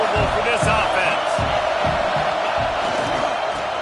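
Stadium crowd in College Football 26 during Alabama at Texas A&M: a steady, loud roar fills the whole stretch, with dull thumps pulsing underneath.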